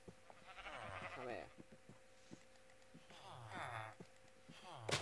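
Sheep in the Minecraft video game bleating, several drawn-out quavering bleats over a constant low hum, fairly loud and close, with a brief sharp sound at the end.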